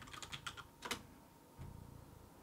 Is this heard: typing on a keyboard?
yes